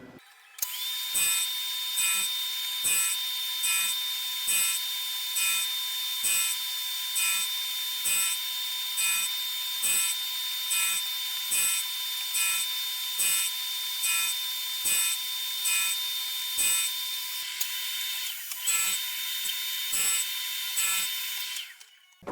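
Emco Super 11 lathe cutting teeth on a change gear, a steady loud high-pitched whine broken by regular evenly spaced ticks as each tooth is cut, running continuously with no talk.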